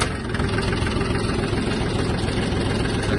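A Yanmar F-180 Japanese mini tractor diesel engine idles just after starting, a loud, steady, close chugging rumble that holds without a break and has no talking over it.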